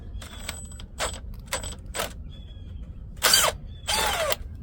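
Power drill running in reverse to turn an easy out and extract a stuck bolt during bearing work on a CAT HM418C mulcher, heard as several short whirring bursts with pauses between them and two longer, louder pulls near the end.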